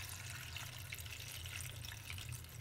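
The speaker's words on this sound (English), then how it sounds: "Then I'm going to go ahead and add some more water in here" Water pours softly and steadily into a slow cooker holding beef bones for bone broth, a faint, continuous splashing trickle heard alone.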